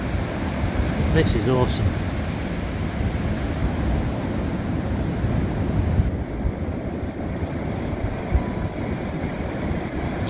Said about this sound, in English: I love the waves when they're like this.